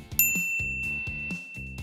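A bright notification bell rings out once with a clear ding, followed by a repeating tonal jingle pattern in a short sound-effect sting, loud and alone with no voices.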